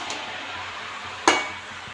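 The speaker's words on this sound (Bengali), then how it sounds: "এবার আলুগুলো দিয়ে দেবো। আলুগুলো দিয়ে নেড়ে চেড়ে নেবো।" Potatoes and peas stirred in a frying pan for a Bengali cabbage chorchori, a soft continuous fry hiss with one sharp scrape or clink of the utensil partway through, close and alone.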